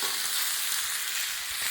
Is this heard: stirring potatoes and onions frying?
yes